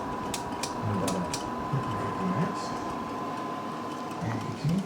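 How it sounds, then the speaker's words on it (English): A broken air conditioner keeps running after being switched off, giving a steady mechanical hum with intermittent clicking and ratcheting noises, while a person talks over it. "the air conditioner won't even turn off now"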